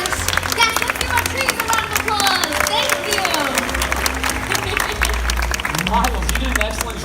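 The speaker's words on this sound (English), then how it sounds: "let's give our trees a round of applause" A theme-park bird show audience at Disney's Animal Kingdom gives a round of applause, dense continuous clapping with crowd noise and a presenter's amplified voice speaking over it.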